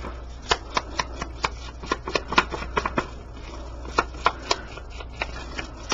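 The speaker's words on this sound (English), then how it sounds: "And I'm going to ink the edges of the tag." An ink pad dabbed repeatedly along the edges of a paper tag in papercraft makes a string of soft, quick tapping pats at close range, irregularly spaced, with no talking.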